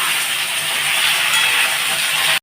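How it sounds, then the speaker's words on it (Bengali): Potato pieces frying in a pan of oil in a home kitchen, giving a constant, even hiss of sizzling close by with no voices, ending in a brief sharp click. "এবার আলুগুলো ভাজা হবে এখানে।"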